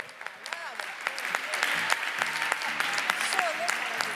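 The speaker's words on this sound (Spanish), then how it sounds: "Dale un fuerte aplauso a esta palabra." A church congregation bursts into loud, sustained applause, dense clapping that swells and holds steady for several seconds, with a few voices calling out over it.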